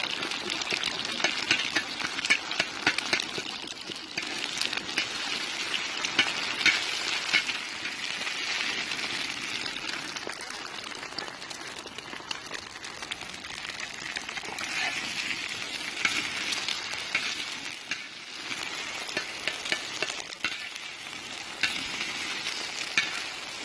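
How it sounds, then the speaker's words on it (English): Eggs scramble and fry on a disc cooker outdoors in New Mexico, giving a soft, continuous sizzle with scraping stirs over a low engine-like hum. "Got the eggs going. Scramble them up."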